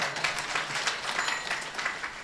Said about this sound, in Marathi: त्यांच्याकरता एकदा टाळ्या वाजवा